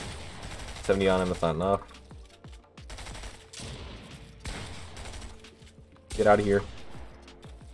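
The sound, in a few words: SMG gunfire in the video game Fortnite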